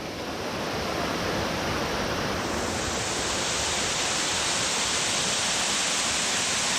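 Tad Fa waterfall in the rainy season, a dense, steady roar of rushing water filling the scene, loud and unbroken with no voices.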